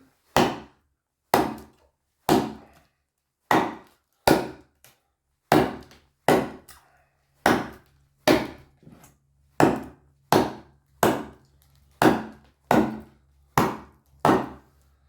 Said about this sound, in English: try to give it 10 or 15 chops here with less force on it.